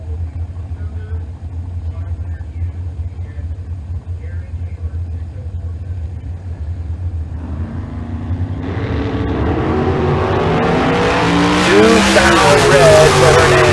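A bracket-racing dragster from Peoria, Arizona launches and roars down the strip at Tucson Dragway, the engine building from a low rumble to a loud, harsh, rising blast that grows steadily over the final seconds, with a commentator talking throughout.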